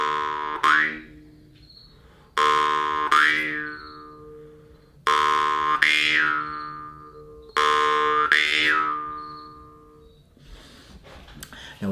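Four twangy jaw harp plucks, each ringing out and decaying, with a boing-like tone shift partway through every note from lightly pressing the back of the reed; close and clear, no speech.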